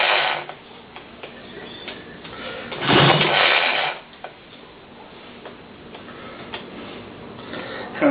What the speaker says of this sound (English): I'm going to do 3 quick cranks.